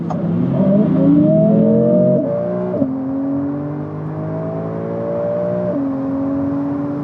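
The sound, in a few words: Porsche 992 and Audi R8 accelerating from 70 km/h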